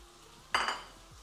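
Fried plantain tipped into a pan of sizzling peppered gizzard sauce, giving one sudden burst of loud frying hiss that quickly fades against a quiet background.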